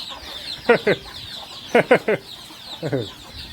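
Chickens cluck in a rural Lao village setting, three short groups of two or three sharp clucks spaced about a second apart, fairly close over a quiet background.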